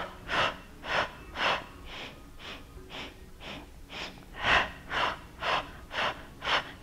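Steady, rhythmic breaths during a Pilates mat breathing exercise, about a dozen airy exhalations evenly spaced roughly every half second, close and clear with no talking.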